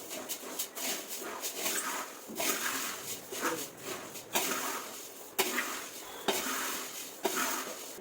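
Poha roasting in a little oil in a pan, with a soft sizzle and repeated stirring and scraping strokes at a moderate level, with no talk.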